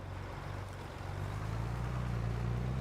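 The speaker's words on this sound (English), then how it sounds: "as fast as this tractor goes," A tractor engine in Farming Simulator 22 drones steadily with a low, humming rumble that swells slightly and holds, close and continuous with no speech.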